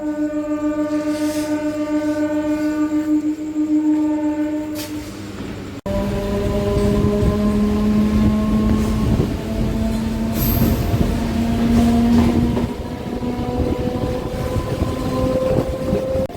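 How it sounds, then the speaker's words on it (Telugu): A WDG4 diesel locomotive hauls a train past near Ramavarappadu on the way to Vijayavada, its steady engine drone and rhythmic wheel rumble filling the clip and swelling loudly as it rolls close by. "ఏ డీజిల్ లోకోమోటివ్ డబ్ల్యూడిజి ఫోర్ చాలా రోజులైన చూసి"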